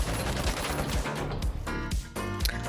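Rapid shooter-game gunfire from The Finals, a dense run of loud shots and bursts overlapping in quick succession, with sharp cracks punctuating a busy, continuous barrage and no speech.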